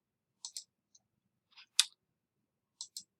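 Crisp computer mouse clicks come in quick pairs with a few single taps, close and isolated against near silence.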